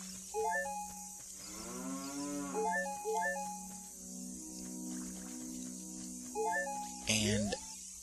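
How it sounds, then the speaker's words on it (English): A cow in the video game The Legend of Zelda: Ocarina of Time gives a low synthesized moo under looping game music, followed later by a sharp game sound effect, with a person talking throughout. "And a cow."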